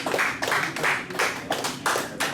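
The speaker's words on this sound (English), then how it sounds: "Give yourselves a round of applause." A group claps in uneven bursts that swell and ease at the end of a coach's year-end speech, the applause loud and close with no talk over it.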